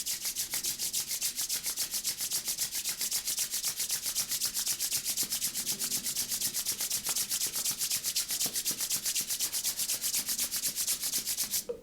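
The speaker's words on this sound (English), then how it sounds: "we're just going to begin by rubbing the palms together to create tapas heat" Palms rub briskly together during a yoga class, a close, steady swishing friction repeating in a fast even rhythm for the whole stretch, with no voices.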